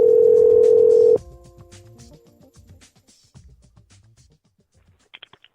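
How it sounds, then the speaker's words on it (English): Telephone call to an attorney's office: a steady dial tone that cuts off after about a second, followed by soft clicks and short rhythmic beeps, with a few brief tones near the end. "let's get somebody on the phone here."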